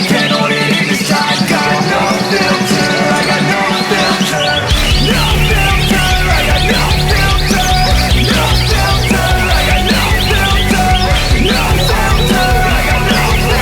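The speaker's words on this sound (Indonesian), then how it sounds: "Ajang kompetisi Lomba Burung Berkicau." Caged songbirds at a bird-singing competition in Banyuwangi fill the air with dense, overlapping chirps and trills. The loud, continuous chorus carries over a low rumble that swells partway through.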